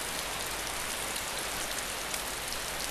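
Steady, dense rain in the survival game DayZ, an even broadband hiss of rainfall on surfaces that holds at the same level throughout with no voices.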